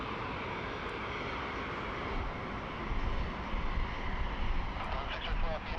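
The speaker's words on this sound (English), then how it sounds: "sounds like we've got the Air Calin 140 Sierra" An Air Calin airliner arrives at Sydney Airport, its jet engine roar faint and distant, swelling slightly as it nears, with a speaker talking over it.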